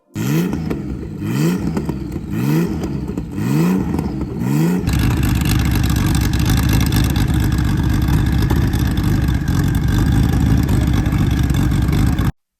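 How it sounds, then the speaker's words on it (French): A Porsche 934/5 Turbo engine revs in several sharp bursts, then settles into a loud, sustained roar close by. "je vous laisse juste admirer le bruit magnifique de cette Porsche 934 5 Turbo"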